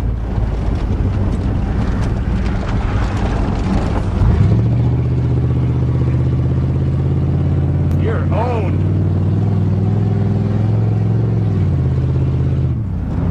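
A 1988 Chevrolet truck drives with a loud, steady engine drone and heavy wind rush inside the cab, then the engine pitch shifts into a sustained lower tone after a gear change, with a voice speaking briefly over it.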